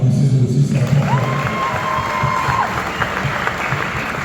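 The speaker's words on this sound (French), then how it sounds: "Applaudissez-le aussi, c'est important." At a documentary screening about a rapper in Kinshasa, the audience applauds a supporter, Christian Lepira, a moderate, sustained round of clapping with some crowd noise and a brief tonal sound partway through.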